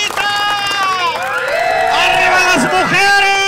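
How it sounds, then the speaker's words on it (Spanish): Clown-show audience in an open-air Alameda setting cheering and shouting continuously, a bright crowd roar dominated by loud, sliding, singing-like voices. "el público aplaude. El público grita."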